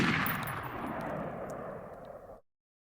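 A single loud gunshot from a rifle fired at close range, with a sharp blast that rings out and decays over about two seconds before cutting to silence.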